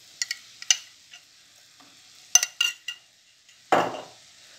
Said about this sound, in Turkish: Şöyle salçamızla birlikte 1-2 dakika daha kavuracağım.